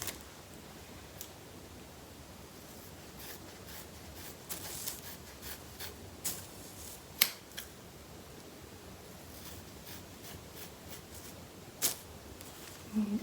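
Scissors trim the length off a wig with a scattered series of short, crisp snips, some louder than others, spread across a quiet indoor background.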